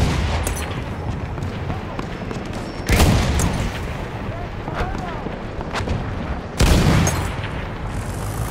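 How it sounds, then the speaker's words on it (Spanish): Gunfire and heavy explosions on a World War I battlefield in Battlefield 1, with a steady rumble of combat and two loud booming blasts standing out. Spoken callouts can be heard over it. "¡Hay una ametralladora!"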